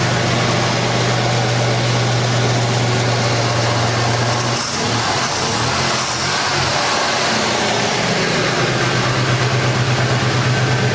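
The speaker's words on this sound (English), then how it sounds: "Let's see how it cranks back up." A 1984 Mercury Capri with a missing rear oxygen sensor is shut off and cranked back up, the loud steady idle dropping out briefly, a short whirring start, then the engine settling back into a low, even idle.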